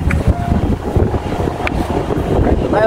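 Strong wind buffeting the microphone on a boat at sea on a sunny day, a constant rough rumble with faint voices in the background.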